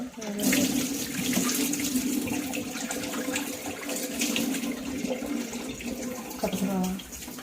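Water runs steadily from a tap while jowar grain is rinsed and rubbed under it, with splashing throughout; a brief voice murmurs near the end.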